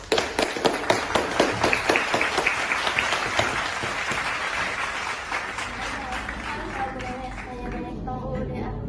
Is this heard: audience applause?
yes